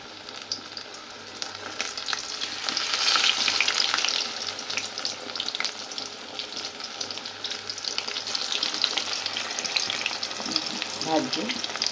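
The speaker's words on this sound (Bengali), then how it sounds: "সে বাঁধাকপিটা ভাজছি এবার" Cabbage pieces dipped in gram flour batter fry in a pan with a continuous close hiss and crackle that swells briefly, then settles into a steady sizzle, with no talking.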